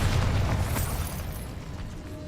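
A Bombarda blasting spell goes off in the Hogwarts Legacy video game: a deep, loud booming burst with a rumbling low end that fades slowly over a couple of seconds, with no talk over it.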